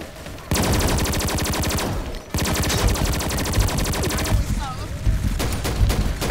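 Rapid bursts of gunfire from a gun called Magic Universe in the shooter game XSHOT, near and loud, in two long dense volleys broken by a short pause, with other game effects toward the end.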